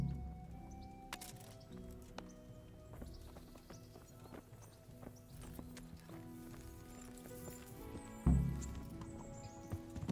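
Horse hooves clip-clop in a steady riding rhythm in the medieval game Kingdom Come: Deliverance, fairly quiet with scattered clicks and creaks, and a sharp louder thump near the end.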